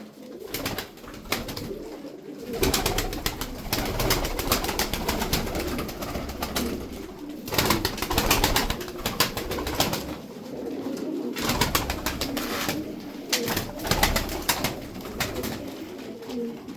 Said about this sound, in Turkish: Uçan kuşlar abiler. Uçan kuşlar.